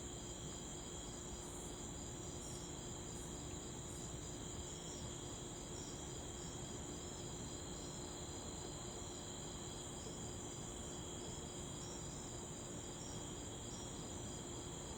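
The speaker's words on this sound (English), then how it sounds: "Bugs making their noise. Crickets." Steady, continuous chirping of crickets and cicadas at night fills the air, a dense high-pitched trill with no pauses, layered over a soft background hiss.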